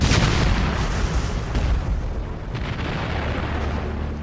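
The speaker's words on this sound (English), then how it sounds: "there was an explosion." Explosion at a bridge over the Rhine in World War II footage, a loud booming blast at the start that decays into a long rumbling roar and debris noise, no voices.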